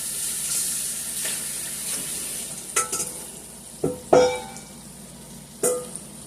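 Beef liver cooking in a pan ahead of onions and gravy, giving a low, steady sizzle punctuated by a few sharp scrapes and knocks of a utensil against the pan.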